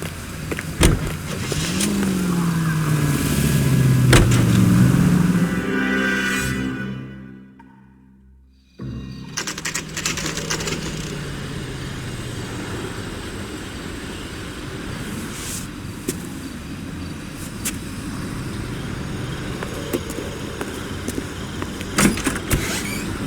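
A car drives in the game L.A. Noire. The engine hums and revs steadily, drops into a brief lull, then runs on again with faint clicks and knocks. No talk.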